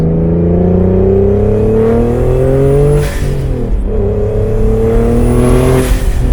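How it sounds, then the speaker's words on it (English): A turbocharged BMW E36 engine revs steadily at half throttle, sustained and loud, with a rising whine and a brief dip midway before climbing again. "I'm gonna do half throttle, see what boost levels it hits."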